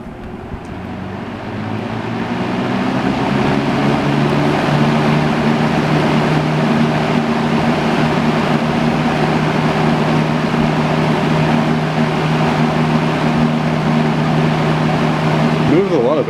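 Vintage Hoover multipurpose box fan spins up and runs on high, a steady close whooshing drone with a low motor hum that holds evenly throughout.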